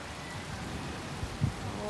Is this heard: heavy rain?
yes